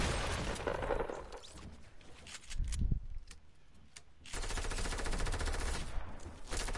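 Rapid automatic gunfire in the video game Fortnite, bursts of sharp shots firing in quick succession, pausing briefly mid-clip, then resuming in a long loud stream.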